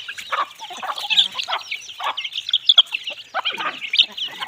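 Several chickens cluck close by, a busy stream of overlapping short clucks and squawks with no talk.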